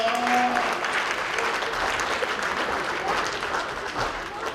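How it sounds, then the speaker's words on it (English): A church congregation claps steadily during a harvest thanksgiving service, a dense sustained burst of applause with a brief voice heard near the start. "Give a clap of the Lord to the Lord."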